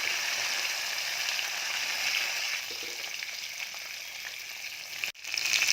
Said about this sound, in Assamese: ইয়াত এতিয়া মাছখিনি ভাজি লওঁ প্ৰথম।